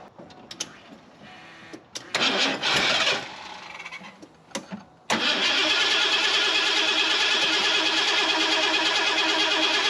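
A fuel-injected Ford F250 engine cranks in uneven bursts, stumbles, then fires and settles into a loud, steady running roar close to the microphone.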